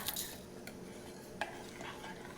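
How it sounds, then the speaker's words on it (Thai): A spoon stirs an agar jelly mixture with pandan and coconut milk in a pot on the boil, with soft scraping and occasional faint clinks over a low, steady simmer. "ต้มและคนเรื่อยๆสักพัก"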